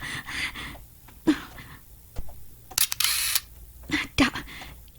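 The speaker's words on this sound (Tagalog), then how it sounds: "Ang kamera." A camera shutter clicks a few times in sharp, close bursts over a faint background hum, with a quick breathy gasp among the clicks.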